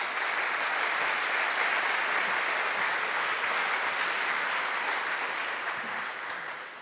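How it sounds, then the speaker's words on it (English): A conference audience applauds the technical crew at a developer talk, steady dense clapping filling the room at an even level before tapering slightly at the end, with no voices over it. "give a round of applause to the tech crew."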